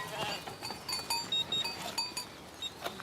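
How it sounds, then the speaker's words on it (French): A flock of sheep on a farm in Vaud bleats in short, scattered calls, some near and some farther off, with soft shuffling and faint background noise between them. "Mathieu Muller est le propriétaire des moutons dont s'occupe Dounia."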